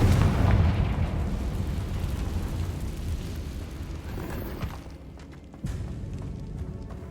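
A Confringo explosion spell in Hogwarts Legacy bursts loud with a deep rumbling blast that fades over several seconds, followed by a second sharp impact thud.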